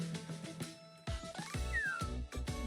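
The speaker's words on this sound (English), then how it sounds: "A kitten is stuck in the tree?" A kitten stuck up a tree in the game Blue Archive gives a few high meows over a busy background of music and game sounds.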